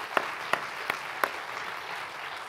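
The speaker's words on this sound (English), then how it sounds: "If you could all join me in giving a warm round of applause for our speakers today." Applause from a symposium audience thanking the speakers at a museum event: a steady wash of many hands clapping, with a few sharper individual claps standing out near the start, moderately distant and without speech.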